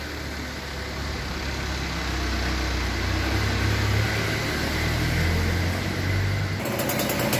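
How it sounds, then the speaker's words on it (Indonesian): A Suzuki TS125 motorcycle engine idles steadily, a dense, continuous low rumble with a crisp, even texture, close and loud with no voices, shifting slightly in tone near the end. "ini posisi mesin hidup, stasioner normal. Suaranya renyah ya teman-teman"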